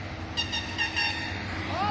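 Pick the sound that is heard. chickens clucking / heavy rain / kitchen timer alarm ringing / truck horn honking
truck horn honking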